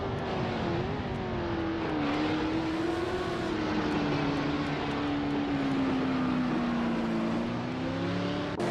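In a racing video game, a 1971 Porsche engine drones steadily with slowly rising and falling pitch, engine noise from other race cars blended in, loud and continuous throughout without talk.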